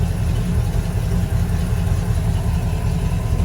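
A Mercruiser MX 6.2 inboard engine in a 2005 Baja 277 boat, with a fault that makes it cut out above 2700 RPM, runs steadily and close by with a loud low rumble and small rises in pitch as it is revved.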